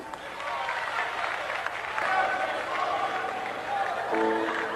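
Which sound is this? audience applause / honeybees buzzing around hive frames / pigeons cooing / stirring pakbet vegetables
audience applause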